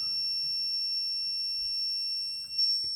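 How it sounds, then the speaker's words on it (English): An HGL-400 double pole voltage tester's buzzer sounds a steady, piercing high-pitched tone that holds unbroken for about three seconds, close and alone with no talking. "So it's not a LED for high voltage, it's a buzzer."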